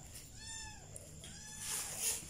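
A cat gives two drawn-out meows in quick succession, fairly close and clear, followed by a brief burst of hissy background noise.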